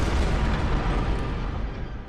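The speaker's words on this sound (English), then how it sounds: "the church cannon is one of the strongest heavy weapons" Church cannon, a heavy weapon, firing in Bloodborne: a loud, dense booming blast with a broad rumbling roar that holds steady and slowly tails off, with no voices.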